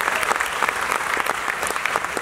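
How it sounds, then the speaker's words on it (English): Audience applause at a Q&A session with Celebrity Cruises executives aboard the Celebrity Edge ship, a dense, sustained clapping from a crowd with a few brief voices mixed in. "more applause for Becky, please."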